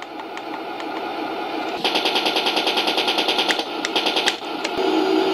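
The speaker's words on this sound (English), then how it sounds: "there's a machine gun button here. You can see that it's firing." Electronic machine gun sound effect from a Heng Long M4A3 Sherman airsoft RC tank: fast, evenly spaced rattling bursts, one long string, then shorter ones, played close and loud over a steady background hum.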